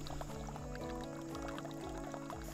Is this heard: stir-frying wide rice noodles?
no